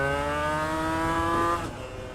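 A 250cc two-stroke V-twin sport bike accelerating hard in second gear toward the top end, its engine a steady high-pitched wail that shifts and drops near the end.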